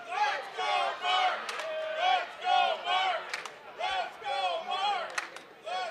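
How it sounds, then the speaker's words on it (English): A crowd at a fighting championship bout chanting in rhythmic repeated bursts, many voices rising and falling together in a steady cadence, loud and echoing through an indoor venue. "the crowd trying to get Mark up right now as we get a Let's Go Mark chant"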